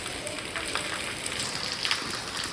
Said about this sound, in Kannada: ನೀರು ಮಳೆ ಫಾಸ್ಟ್ ಹೊಡ್ಯಾತೈತ್ರಿ